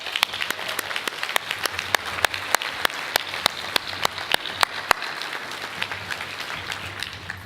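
Audience at an Emmy awards show applauding, with a steady wash of clapping and distinct sharp claps at a regular rhythm standing out near the microphone.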